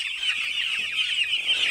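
Six-day-old broiler chicks on a poultry farm, a few of them ailing with ruffled feathers, chirp in a dense, continuous, high-pitched chorus, close and fairly loud with no pauses.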